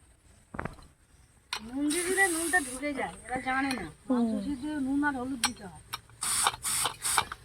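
A pressure cooker releases steam and water in sharp, loud hissing bursts, one early and several near the end. Someone talks in between.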